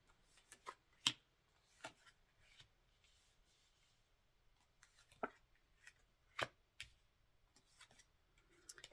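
Tarot cards laid out one by one on a table, soft close taps and slides spaced irregularly, quiet with no talk.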